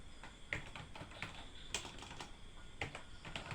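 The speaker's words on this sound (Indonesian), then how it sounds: "kita ketik di sini aja" Typing on a computer keyboard, quiet close-up key clicks in an irregular rhythm with a few sharper taps, no voices.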